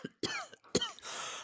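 Two quick, close coughs in succession, followed by a short breathy exhale.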